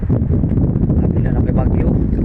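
Strong typhoon wind buffets the microphone, a continuous loud low roar and rumble filling the whole short stretch.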